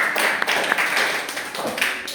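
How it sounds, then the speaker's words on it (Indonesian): Clapping for a guest in an Indonesian coding and AI lesson setting, a small group giving short scattered claps with some taps, fairly close, lasting about two seconds. "Tepuk tangan untuk Bang Samuel."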